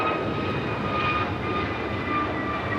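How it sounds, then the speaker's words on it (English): American Airlines Airbus A321neo taking off from LAX, its engines a continuous, even roar with a faint high whine on top, steady and unbroken throughout. "American Airlines 591 taking off to Washington Reagan National on the A321neo."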